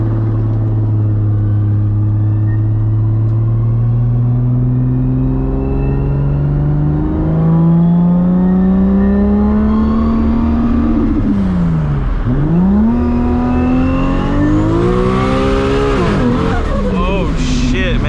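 A 1000+ horsepower Toyota Supra MK4 roars through a sustained pull, its engine note rising steadily, dipping sharply at a shift, then climbing again, loud and close from inside the car.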